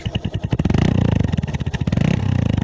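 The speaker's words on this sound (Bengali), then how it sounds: "আচ্ছা, এখন আমি ইঞ্জিনের সাউন্ডটা দেখাই।" A Bajaj Discover 135 cc motorcycle engine runs close by with a deep, rapid, evenly pulsing thump that stays loud and steady throughout, with no speech.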